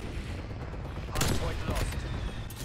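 A burst of sniper and automatic gunfire in the Call of Duty Cold War video game, loud and dense, arriving abruptly after a stretch of steady game ambience.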